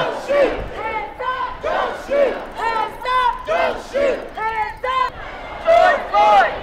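A large crowd of protesters chants rhythmic slogans in unison on a street in Alexandria, Virginia, repeating loud, echoing call phrases in steady bursts.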